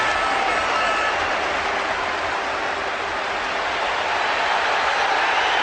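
Dense, sustained applause from a packed football stadium crowd at Highbury on its final day, cheering for Dennis Bergkamp's hat-trick, a loud unbroken roar of clapping with a commentator's voice faintly over it.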